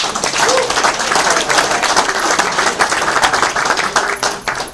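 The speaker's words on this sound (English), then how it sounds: "Everybody give Nick a round of applause" A room of people at a BNI business networking meeting claps together for a member. The applause is dense and steady and runs at an even level for nearly five seconds, with a few voices underneath.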